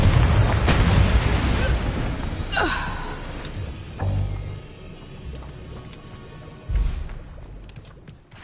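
A Confringo blasting spell goes off in Hogwarts Legacy, a loud burst that fades into crackling debris, followed by a few softer thuds and impacts at intervals.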